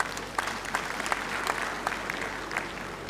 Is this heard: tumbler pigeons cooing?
no